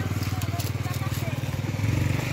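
A motorcycle engine idles with a steady low pulsing throb on a rural farm property, close by, while people talk over it.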